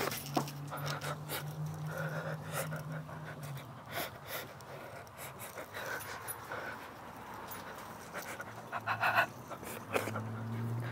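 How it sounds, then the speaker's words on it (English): A dog pants and breathes in quick, uneven huffs close by, with a few small whimpers and snorts mixed into the rhythmic breathing. "I see dog."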